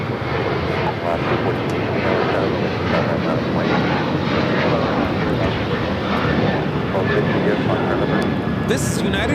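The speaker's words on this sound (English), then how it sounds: "2361 taking off to Seattle on the 737-900ER" A Boeing 737-900ER jet airliner takes off from LAX, its engines giving a loud, steady roar that stays level throughout, with a voice briefly audible over it.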